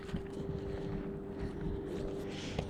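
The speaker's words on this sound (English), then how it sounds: "It's kind of windy." Gusty wind buffeting the microphone with low rumbling and a steady faint hum, fairly quiet throughout.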